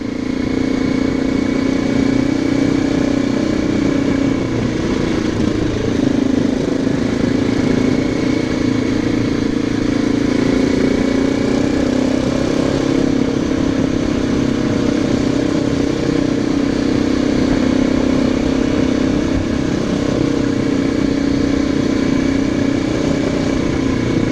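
A motorcycle engine drones steadily and loudly up close as the bike rolls around a wet, off-camber 180-degree corner, with the engine note shifting slightly and no voices.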